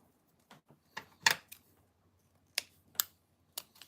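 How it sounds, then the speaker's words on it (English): Very dull scissors snipping during a fishing sinker-building session, a series of sharp, dry clicks and snaps, close and fairly quiet, arriving irregularly with short pauses and no talking. "These are some of the world's dullest scissors."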